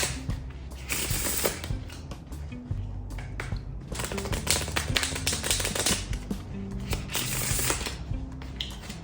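A stiff new deck of playing cards is shuffled, giving repeated bursts of riffling and fluttering card clatter with brief pauses between them, close and fairly loud.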